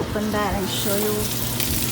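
Cauliflower steaks sizzle and crackle steadily in a hot pan while a person speaks briefly over it, close and fairly loud.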